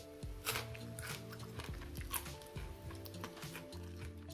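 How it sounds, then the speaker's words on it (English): Crunchy bites into a raw broccoli stem, close up, with irregular crisp snaps and chewing, no talking. "Maybe you can hear how crunchy it is."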